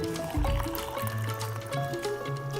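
Hot water poured into a pot of rice for cooking lemon chicken, a soft close gurgling fill with a brief louder splash near the start, low and faint in level.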